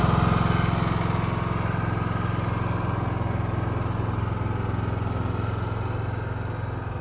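A generator engine on a 2021 Covered Wagon food trailer idles steadily, a loud, close, even mechanical drone with a fine rhythmic pulse and no talking.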